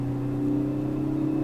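A Ford Focus ST hot hatch pulling hard uphill under power, its engine a steady, close droning roar with a strong low hum throughout, heard from inside the car with no talk.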